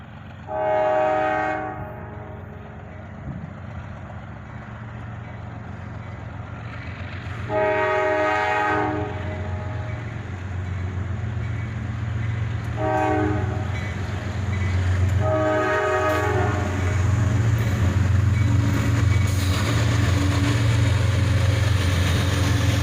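A CSX freight train led by an SD40-3 locomotive arrives, sounding four long horn blasts spaced apart over a building low diesel rumble.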